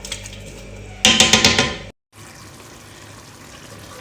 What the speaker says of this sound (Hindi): इसमें ये तकरीबन 1 गिलास पानी का शामिल कर देना है